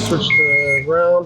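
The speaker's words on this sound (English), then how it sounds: "Sorry for the beeping." Controls of a JLG 125 boom lift emit electronic beeps: a sustained high tone, then a second steadier tone after a short break, with someone speaking over the start.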